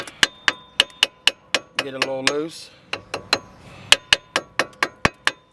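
A hammer taps a brake caliper bracket on a Chevy Malibu in a quick run of sharp metallic clinks, pausing while someone speaks, then resuming with a rapid, ringing series of close strikes.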